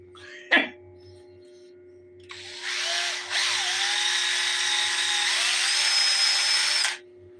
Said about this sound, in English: So never drill silicone and think that you're going to get the expectations of what you think it should be